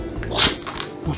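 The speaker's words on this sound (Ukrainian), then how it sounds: "Коли собака чхає декілька разів поспіль" A dog sneezes once, a short sharp snort-like burst near the middle, fairly close, against a faint background with no talk.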